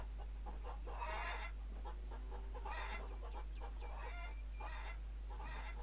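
Chickens clucking in the Farmers Dynasty farming video game, a steady run of soft, repeated clucks and calls in bursts over a constant low background hum.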